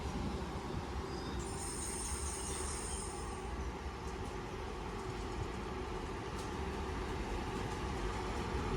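Train passing through Cheadle Hulme station on a northern service line, a continuous low rumble of wheels and engine with a brief high squeal early on, heard from the platform, no talking.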